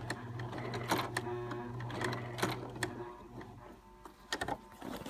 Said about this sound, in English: a sewing machine's not really made to go through that many thicknesses of fabric